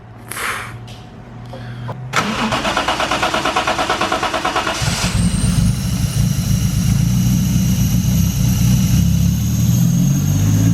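A drift-build project car engine cranks with a rapid rhythmic chug for a few seconds, catches, and settles into a loud rumbling idle with a rising rev.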